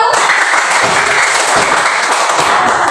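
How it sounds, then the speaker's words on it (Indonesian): A class bursts into steady applause for the first student group during a micro-teaching session, close and loud, the dense clapping holding even for about three seconds. "Tepuk tangan untuk kelompok 1."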